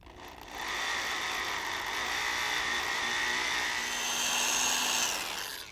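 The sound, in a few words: drilling pilot hole down center of bolt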